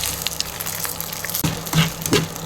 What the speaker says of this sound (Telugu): 2 స్పూన్ల ఆయిల్ వేసుకుందాం. ఇవన్నీ వేసి ఫ్రై చేసుకుందాం.